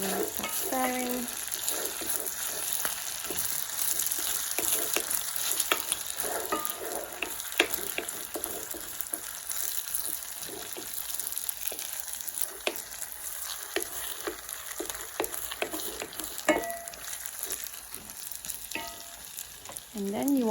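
Carbonara pasta being stirred in a pan off the heat with an egg and cheese mixture, a soft continuous sizzle with scattered clicks and scrapes of the utensil against the pan, a little water running in the background.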